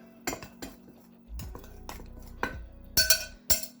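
A utensil clinks and scrapes against a bowl while berries are stirred together with icing sugar, giving a series of sharp, close metallic taps and scrapes.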